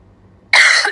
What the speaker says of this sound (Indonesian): agak batuk-batuk gitu